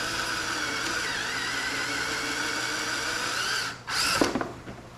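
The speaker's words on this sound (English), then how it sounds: "you're trying to drill the head out." A power drill whines steadily at close range drilling out a rivet head on a Mercedes W140 front bumper support, then briefly stops and revs again in short bursts.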